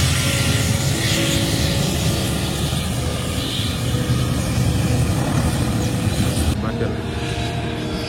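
A fixed-wing airplane landing at Bakel aerodrome in Senegal, with a steady, loud engine roar filling the whole stretch, while people's voices blend into the background noise.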